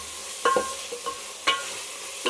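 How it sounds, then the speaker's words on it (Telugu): Marinated chicken pieces with ginger garlic paste stirred in a hot pan, with a soft steady sizzle of frying under several distinct scraping strokes of a spoon against the pan, no talking. "ఒకసారిగా చికెన్ వేసేసుకొని కలిపి వేసేసుకున్నాం"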